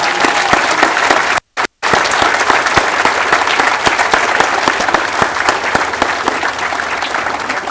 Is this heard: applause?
yes